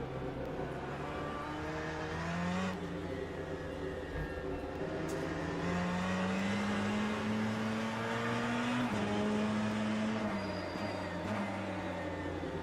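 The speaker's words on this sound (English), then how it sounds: "Love hearing the sound of those cars going past the main straight as you hit that turn" Race car engines in the Le Mans Ultimate sim racing game at Interlagos, a steady droning roar with rising and falling pitch sweeps as cars pass along the main straight, continuous and fairly close throughout.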